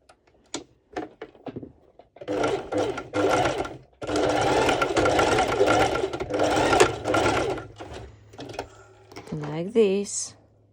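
A sewing machine stitches the ends of bikini fabric in short bursts with a small stitch, steady mechanical whirring between brief stops, and a voice speaking near the end.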